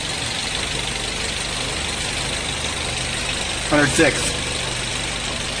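A car engine idles steadily with a continuous, even rumble, and a person speaks briefly over it.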